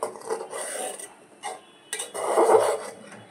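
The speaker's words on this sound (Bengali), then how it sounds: "আমি একটু দুধটা নাড়িয়ে দেবো" Boiling milk is stirred in a pot for a vermicelli pudding, giving soft scraping and rubbing strokes of a spoon against the metal in a few uneven bursts, fairly quiet and close, with no talking.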